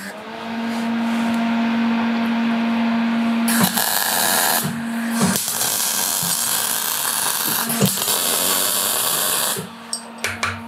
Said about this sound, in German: Komm, ich schweiß den mal an. Ich bringe das Schweißgerät.